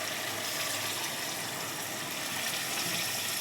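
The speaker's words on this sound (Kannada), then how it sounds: "ಈಗ ಸ್ವಲ್ಪ ಒಂದು ಅರ್ಧ ಗ್ಲಾಸಷ್ಟು ನೀರು ಹಾಕೋತಾ ಇದ್ದೀನಿ." Half a glass of water is poured onto mutton frying in oil, giving a steady, soft rushing hiss with no speech.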